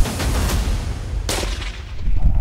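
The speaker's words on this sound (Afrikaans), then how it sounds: "Hy vat die skoot." A sharp rifle shot cracks out partway through over rumbling outdoor wind noise during a safari hunt, a single loud report with a brief echoing tail.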